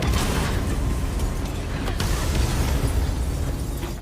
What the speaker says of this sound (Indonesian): tiba-tiba saluran gas bocor, memicu ledakan besar di beberapa unit